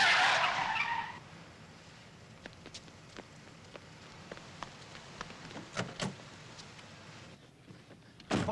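A car speeds away with a brief loud tire skid at the start, then a quieter stretch of road noise with scattered faint clicks and thumps.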